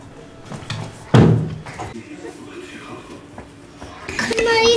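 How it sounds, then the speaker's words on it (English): An indoor door swings shut with a single solid thud, followed by quiet room noise. A child's and an adult's voices murmur faintly around it, and a brief squeaky sound comes near the end. "Go ahead and close the door."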